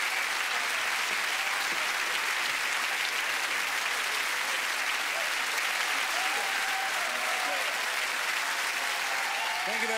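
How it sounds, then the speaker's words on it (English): Sustained audience applause at a stand-up comedy show, a dense, continuous roar of clapping from a large crowd that holds evenly throughout, with a few faint voices and cheers mixed into the wash. "Ladies and gentlemen, big round of applause for two great support."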